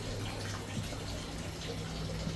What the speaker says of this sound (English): I'm filling my shower.